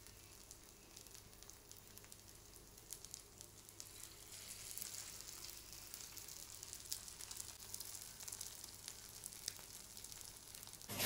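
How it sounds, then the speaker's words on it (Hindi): Sabudana tikki frying in oil in a frying pan, a steady soft sizzle and crackle that holds evenly throughout, faint and continuous with no voices. "चपटे चपटे करने के बाद है ना मैं इसको यहाँ पे ऐसे फ्राई पैन में डाल रही हूँ"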